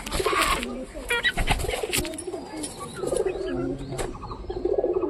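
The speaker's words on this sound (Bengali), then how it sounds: "নতুন অতিথিটা হচ্ছে একটা গিরিবাজ কবুতর" A Giribaz pigeon coos repeatedly nearby, low rolling calls mixed with chirps from other birds and a backyard voice talking in the background.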